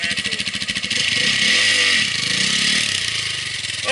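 Motorcycle engine revving while being ridden, a close, loud mid-pitched drone that pulses briefly, then swells into a sustained rev and eases off slightly toward the end.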